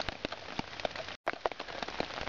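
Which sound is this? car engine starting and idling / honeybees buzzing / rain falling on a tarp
rain falling on a tarp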